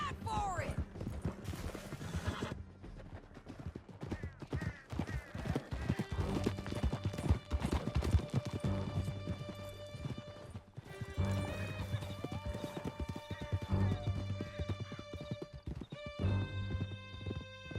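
Horses gallop during a ride in Red Dead Redemption 2, with rhythmic clip-clopping hoofbeats and an occasional whinny, layered over a musical score throughout.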